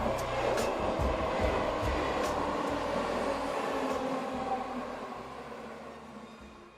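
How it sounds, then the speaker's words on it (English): Steady, dense rumble and rushing hiss inside a Shinkansen bullet train in Japan, heard continuously from the cabin with a slight fade toward the end. "it's time to hop on the Shinkansen and make our way to Gunma."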